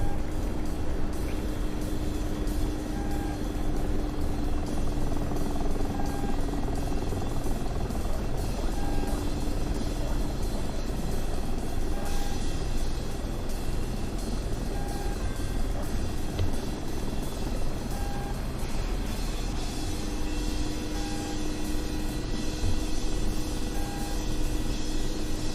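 A helicopter in the DCS flight simulator game, its steady rotor and engine drone holding at constant loudness throughout, close and continuous with a faint periodic whine.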